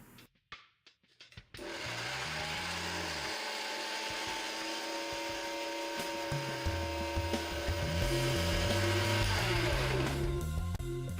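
An electric mixer grinder whirs loudly and continuously after a few short knocks, grinding green coriander and green chillies into a spice paste, its motor pitch shifting as the contents spin.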